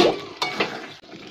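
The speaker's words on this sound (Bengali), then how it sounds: "আমি একটু নেড়ে দিচ্ছি" A spoon briefly stirs Bengali yam curry (oler dalna) in a pan, a few soft scraping strokes and light metallic knocks over a faint simmering bubble.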